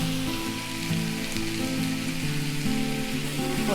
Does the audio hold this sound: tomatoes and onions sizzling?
yes